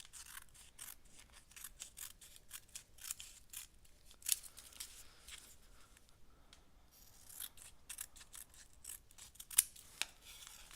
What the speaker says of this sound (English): And then we're just going to trim, trim, trim.